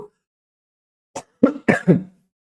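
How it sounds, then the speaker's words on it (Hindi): A few short, close coughs in quick succession, dry and abrupt, with silence around them. "मौसम चेंज के कारण खांसी वाली चीजें थोड़ी सी ज्यादा बड़ी बड़ी है"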